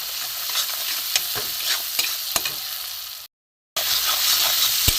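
Spice paste of grated ginger and ground masala sizzles and hisses in hot oil for a tilapia fish curry, with steady frying noise, sharp clicks of a spatula stirring, and a brief gap of silence before the sizzle resumes.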